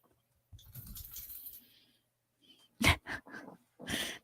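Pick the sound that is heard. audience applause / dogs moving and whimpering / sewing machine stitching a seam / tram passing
dogs moving and whimpering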